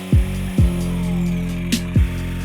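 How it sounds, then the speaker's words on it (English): A jigsaw's motor hums steadily while cutting a slot in plastic, broken by a few short thumps and a brief high squeal. "I used my jigsaw to cut the slot."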